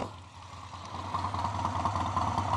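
A 2017 Harley-Davidson Sportster 48 with a Stage 1 tune idles just after starting, a steady, loud low rumble with a loping pulse that holds throughout, up close and alone.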